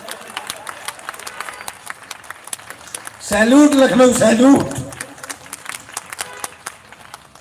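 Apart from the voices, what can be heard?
audience applause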